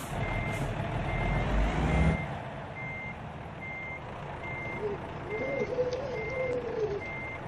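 Truck backing a trailer to a loading dock in American Truck Simulator, its reversing alarm beeping at a steady, regular pace over a low engine rumble, with a short rush of air early on.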